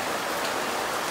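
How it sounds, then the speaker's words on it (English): Steady rain falls outdoors during a wildfire season, a dense, even hiss of drops hitting surfaces that runs unbroken throughout, moderately loud and close with no voices. "This is some good rain."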